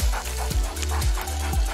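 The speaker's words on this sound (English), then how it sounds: "Was that a dog?" A dog barks a few times at moderate distance, short woofs spaced about half a second apart over steady background noise, with no talking.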